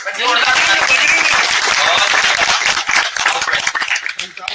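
An audience at a Hindi poetry recital claps loudly and steadily, with a dense patter that thins toward the end, while someone keeps talking over the applause.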